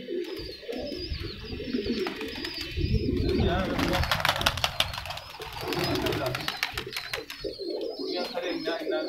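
Teddy pigeons coo in a loft near their nest boxes, a steady low murmur of several birds close by, mixed with rustling and other bird noise throughout.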